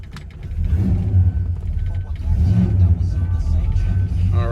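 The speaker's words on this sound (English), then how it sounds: "You can hear how it sounds from the engine and then from the exhaust as well." A 1966 Pontiac GTO engine runs close by with a steady low rumble and revs that swell and ease over several seconds, exhaust heavy throughout, with faint voices faintly underneath.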